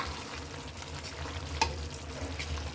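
Mustard-oil-style tempering of spices in a hot pan for taro greens, a steady low sizzle and crackle running throughout, with one sharper clink or pop midway; no one speaks.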